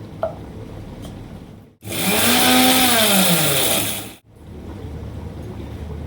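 A kitchen grinder whirs loudly for about two seconds as it coarsely grinds dry-roasted spices for kadai chicken. The motor pitch rises and then falls, with quieter room ambience before and after and no talking.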